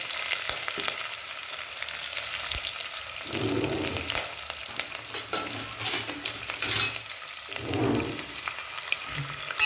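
Onion fries in a non-stick pan, giving a steady, fairly loud sizzle with occasional spatula scrapes and light clinks of the pan, close up and without any speech.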